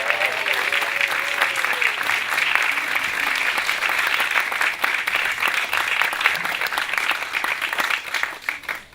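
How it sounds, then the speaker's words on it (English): Outdoor crowd at a memorial celebration for John F. Kennedy's 100th birthday cheers and applauds steadily for nine seconds, a dense wash of clapping with a few whistles and voices near the start. "Should we give a cheer?"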